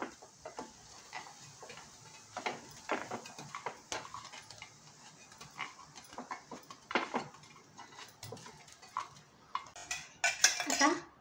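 Semolina appe are lifted one by one from a cast appe pan, giving a string of light metal clicks and scrapes at an uneven pace, close and fairly quiet, building to a busier clatter at the end.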